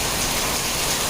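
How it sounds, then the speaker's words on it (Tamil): Heavy rain pours down in a dense, continuous hiss, loud and steady throughout, with no voices. "மழை பிச்சுக்கிட்டு ஊதுது"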